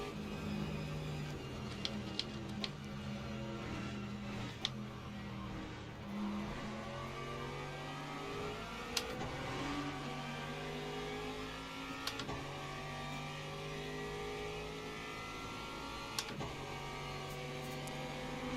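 Race cars in the Le Mans Ultimate racing game approach with layered engine tones that rise and shift in pitch as they near, forming a steady mechanical drone broken by a few sharp clicks.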